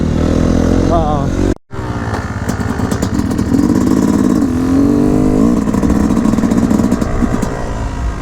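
A KTM 350 XCF dirt bike engine running close and loud, its buzzing drone rising and falling with throttle, cut by one brief dropout, then continuing to rev and pull steadily.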